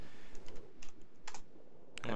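Keys clatter on a computer keyboard in quick, uneven bursts of soft, close clicks during a ComputerCraft coding session in Tekkit.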